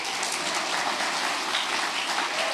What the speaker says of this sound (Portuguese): Agora pode aplaudir.